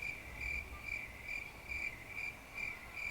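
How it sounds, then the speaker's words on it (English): Crickets chirp in a steady pulsing rhythm, regular bursts repeating about every half second against a quiet night background. "crickets."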